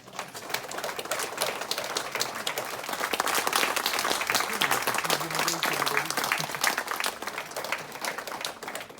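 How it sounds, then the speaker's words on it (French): Dense, lively audience applause at a round-table discussion on cerebral palsy in France, many hands clapping rapidly and steadily for several seconds, with a faint voice briefly under it. "On peut l'applaudir."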